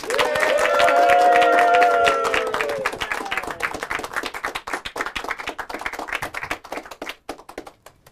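A comedy open-mic audience applauds comedian Irwan Chan, a dense wash of many hands clapping that starts loud with cheering, then thins into scattered claps and fades out.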